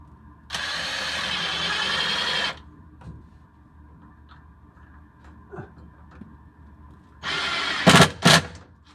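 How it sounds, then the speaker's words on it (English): Power drill driving screws into a pipe hanger or bracket while fitting fire sprinkler pipe, two loud whirring bursts near the start and end with quiet shuffling and small knocks between. "So now I can drive some screws into this"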